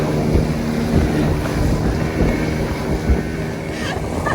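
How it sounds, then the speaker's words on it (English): A 15 horsepower Yamaha outboard towing two dinghies on open water, a steady close motor drone mixed with wind noise and splashing water, continuous and fairly loud throughout. "My 15 horsepower Yamaha was actually strong enough to get both dinghies out of the water."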